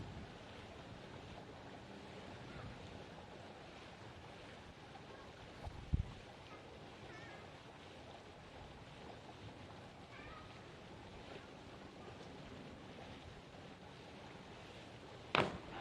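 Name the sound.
strong gusting wind at outdoor diving platform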